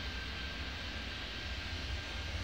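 An airliner taking off in Airport Madness 3D, a steady broad jet-engine roar with a deep low rumble, continuous and even at moderate volume, with no talking.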